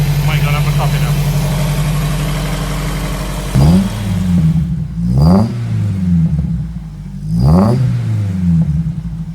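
A Honda S2000 engine swapped into a 1953 MG TF idles loudly, then revs sharply three times in a row, each throttle blip rising and falling back to idle, with people talking nearby.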